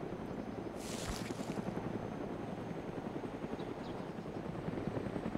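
A helicopter in the DayZ video game, a loud steady rotor thumping with engine whine and wind rush throughout, close and continuous.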